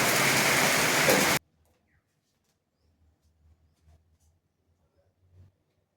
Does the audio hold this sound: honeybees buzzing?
no